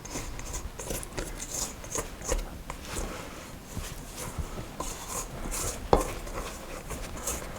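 A spatula scraping down the sides of a mixing bowl of kolache dough, with soft irregular scrapes and light clinks at a moderate distance, one sharper knock near the end.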